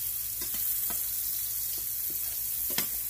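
Vegetables saute in a hot pan for a shrimp, chicken and vegetable stir fry, giving a soft, steady sizzle with a few faint clicks of stirring, close by and quiet.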